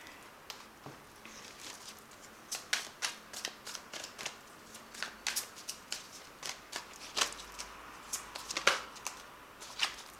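A tarot card deck is shuffled by hand in a series of quiet, quick riffles and soft card slaps, irregular bursts repeating close by with no talking.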